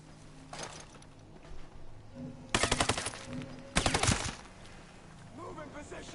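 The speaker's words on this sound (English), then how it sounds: "he heard my shots, seeing as they hit metal quite a lot" Gunfire in the video game Ghost Recon Breakpoint, aimed at a heavy gunner with rounds striking metal. Two loud, rapid bursts of shots stand out against quieter background game sounds.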